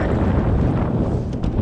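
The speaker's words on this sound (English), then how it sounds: "It's windy as snot" Strong wind buffets a fishing boat on Sturgeon Bay while walleye fishing, a loud, constant roar of gusts battering the microphone.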